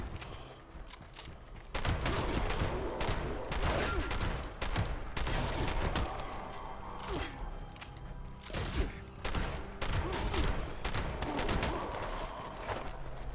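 Rapid combat shotgun fire in Fallout 76, with dense, loud bursts of repeated blasts running almost continuously from the second mark onward over game clatter.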